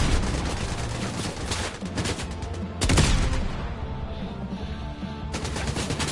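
Video-game gunfire: loud, sustained automatic bursts that roar almost continuously, with a sharp heavier shot near the middle and only brief lulls between volleys.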